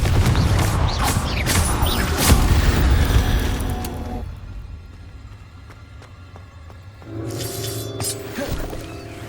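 Confringo blasting spell from Hogwarts Legacy, a loud cluster of crashing booms and debris in the opening seconds, dropping to a quieter rumbling lull before another burst of crackling blast noise near the end.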